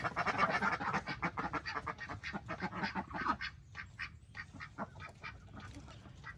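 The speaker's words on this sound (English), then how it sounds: "The ducks are fighting." Ducks quack and honk in rapid, agitated bursts, several birds fighting loudly at close range with overlapping calls.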